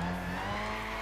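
Car drifting through a corner in the racing video game Gran Turismo 6, with a steady engine drone and a sustained tire squeal held loud and close for about a second, with no talk.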